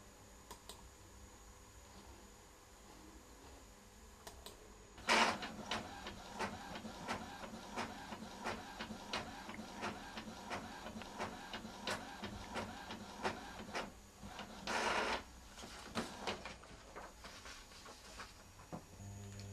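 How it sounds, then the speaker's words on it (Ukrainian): A colour inkjet printer prints a picture: steady mechanical whirring and rapid ticking print-head passes, starting with a louder feed burst and continuing in repeated strokes, with another loud burst near the end, close and alone. "Роздруковую картинку за допомогою кольорового принтера."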